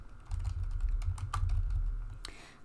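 Rapid keystrokes on a computer keyboard patter in a steady run of close, crisp clicks, ending with a sharper key press before trailing off.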